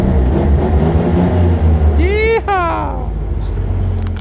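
A 1971 Jeep Commando Jeepster drives along a road, its engine a steady low rumble throughout, with a rising then falling whine partway through as it pulls through a gear, and faint voices underneath.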